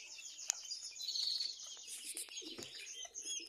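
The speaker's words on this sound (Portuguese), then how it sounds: "Pombo comum vindo comer milho aí, ó" A common pigeon coos softly while coming to eat scattered corn, its faint low calls mixed with light chirps and small rustles outdoors.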